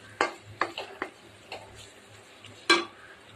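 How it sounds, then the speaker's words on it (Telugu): A spoon scrapes and clinks against a pan while ivy gourd curry with ginger garlic paste is stirred, giving a few sharp, separate knocks spread over a few seconds under a faint background sizzle. "ఒక 2 నిమిషాలు బాగా కలుపుకోండి"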